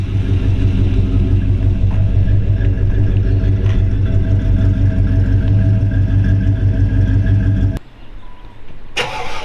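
A 1957 Chevy 210 V8 with dual Flowmaster-style mufflers idles with a deep, steady, throbbing rumble close by, then drops off abruptly near the end, leaving quieter background noise.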